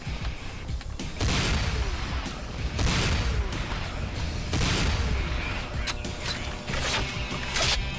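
Explosions and gunfire while blowing up a flame tank in Command and Conquer Renegade, dense rumbling blasts and crashes arriving in repeated heavy waves over a constant loud battle din.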